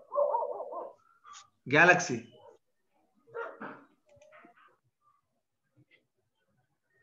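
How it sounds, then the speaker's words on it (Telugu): Dogs bark in short, scattered bursts in the background of a mathematics class, with gaps of near silence between them and a voice speaking briefly among the barks. "కుక్కల అరుపులు వినిపిస్తారు."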